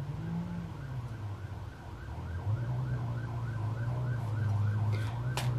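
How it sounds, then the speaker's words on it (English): Wailing emergency sirens cycle up and down over steady traffic rumble, with a low engine drone underneath and a couple of sharp knocks near the end. "Pay attention to the sirens, because that's a message"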